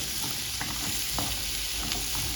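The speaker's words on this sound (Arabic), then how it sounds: "هنزل بقى على البصل والثوم ده وهبدا اقلب كده لغايه اما البطاطس بتاعتي تدبل" Cubed potatoes with onion and garlic stirred in a frying pan, giving a continuous close sizzle broken by soft scraping strokes of the spoon.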